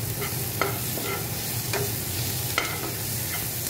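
Greens sizzle in a pan as they are stirred, a continuous frying hiss broken by several short scraping clicks of the spatula against the pan.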